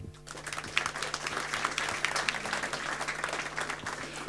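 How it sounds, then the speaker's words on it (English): Sustained applause from a conference audience welcoming the Deputy Minister at the CEBioForum 2024 opening, with dense continuous clapping throughout and a faint steady hum underneath. "Please welcome the Minister with applause, please."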